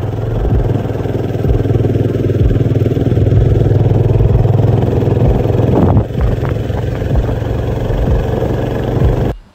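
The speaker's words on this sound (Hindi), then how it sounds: "बाइक चलाने का काफ़ी मज़ा आ रहा था" A motorcycle engine runs steadily while riding along small village roads, a loud continuous mid-pitched drone with clattering texture and a brief dip partway through, no talk.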